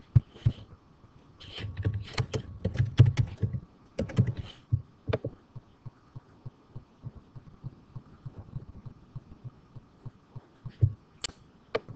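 Keys on a computer keyboard tapped in a quick cluster early on, then sparse scattered clicks over a low steady hum, faint and close.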